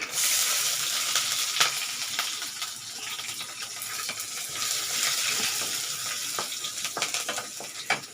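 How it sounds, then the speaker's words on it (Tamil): Dried red chillies, garlic and ginger frying in hot oil, a steady close sizzle with occasional stirring clicks and crackles throughout, no talking. "ரெண்டு காஞ்ச மிளகா அப்படியே போட்டுக்கலாங்க கொஞ்சம் பொரியட்டும் இப்போ இந்த பூண்டு இஞ்சி எல்லாம் சேர்த்துக்கலாம்"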